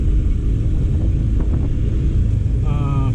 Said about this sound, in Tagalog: Ito ang uh, lagay ng traffic trapiko dito sa Tabang, sa St. Francis Street.